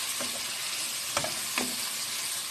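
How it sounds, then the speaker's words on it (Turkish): Boiled dried eggplants get stirred into sautéed onions in a pan, a constant sizzle under two distinct spoon scrapes against the pan, close and alone without talk. "Haşladığım e, kuru patlıcanlarımı kavurduğum soğanlarıma şöyle bir harmanlıyorum"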